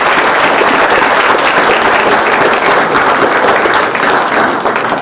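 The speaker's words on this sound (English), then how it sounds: "Let's give them a round of applause." Loud, dense applause from the audience at a West Valley City council meeting, steady clapping filling the whole stretch without a break.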